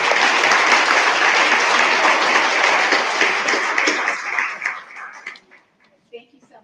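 Audience applause at a school board meeting, a dense sustained clapping that holds steady for several seconds, then thins into scattered last claps and fades out.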